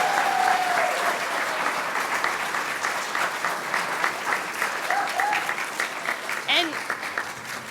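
Sustained applause from an audience for students being recognized at a school board business meeting, dense steady clapping throughout with a brief voice or whistle-like tone rising above it near the end.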